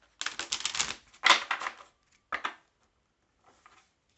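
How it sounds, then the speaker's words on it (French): Tarot cards being drawn and shuffled, giving a crisp rapid riffle followed by a second shorter flurry and a few soft taps, close and quiet. "je tire 3 cartes et vous choisissez une carte parmi les 3"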